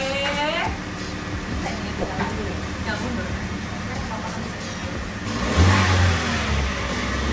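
A new car's engine hums and revs while driving, a steady mid-pitched drone with a louder surge near the end, and people talk over it.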